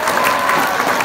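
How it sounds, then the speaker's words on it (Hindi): A school audience at Saint Anslam School claps together during a comedy show: a dense, steady burst of applause lasting about a second with no pauses. "तो ताली बचनी चाहिए।"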